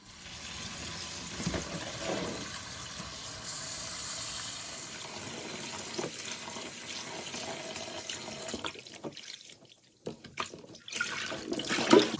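Tap water runs steadily into a kitchen sink while endive salad is rinsed, a constant close splashing that breaks off near the end with a few handling clatters.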